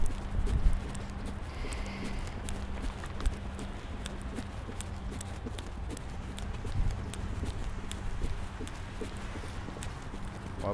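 A gentle horse walks on a circle over hard and soft ground, its hooves clip-clopping at an even, unhurried pace under a steady rumbling background, with a brief thump near the start.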